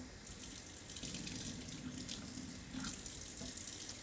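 Tap water runs steadily while a valve is cleaned under it, a constant close hiss of flow with slight splashing changes and no voices.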